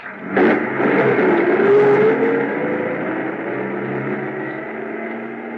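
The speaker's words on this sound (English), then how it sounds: "I stood there in the snow watching the headlights of the truck move away" Radio-drama sound effect of a truck driving away in the snow: an engine roars up with a gear whine, then settles into a steady fading drone as it recedes.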